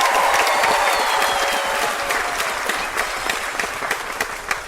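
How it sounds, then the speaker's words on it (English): Studio audience on a quiz show breaks into loud, dense applause, rapid clapping from many hands that holds strong and slowly thins toward the end, with no talking over it. "every time you get a question correct, the audience is going to applaud."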